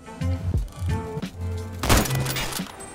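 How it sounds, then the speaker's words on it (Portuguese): Gunshots in a Roblox Call of Duty-style shooter game ring out as a few sharp, loud reports over ongoing game sound, with the heaviest blast near the end of the stretch. "quando eu dou um tiro"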